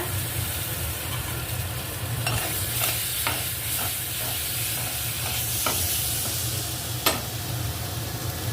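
Cumin and coriander paste frying for egg curry with new potatoes, a steady sizzle running throughout with several scraping stirs of a spoon in the pan, close and fairly loud.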